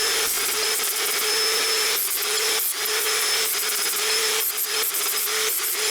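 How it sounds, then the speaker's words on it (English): Flap disc grinding and cleaning up the edges of a split steel plate stack, a steady loud abrasive whine with a constant tone, briefly easing off at a few moments as the disc is lifted between passes. "I then do a quick clean up of the plate edges with the flap disc."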